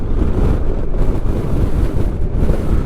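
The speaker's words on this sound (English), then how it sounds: "breezy out here today" Strong wind buffets the microphone outdoors beside a motorcycle on a breezy day, a loud, continuous low roar with gusty swells throughout and no voices.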